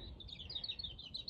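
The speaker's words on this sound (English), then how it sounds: "You can hear the birds singing" Small birds chirp and twitter at a farm with sheep, quick high tweets repeating irregularly over faint background noise, fairly distant and soft, with no talking.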